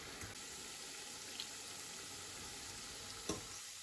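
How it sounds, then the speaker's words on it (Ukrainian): Steady, faint sizzling and crackling of kefir dough (verhuny) frying in oil, continuous throughout with a couple of soft clicks, no voices. "Смажимо другу партію."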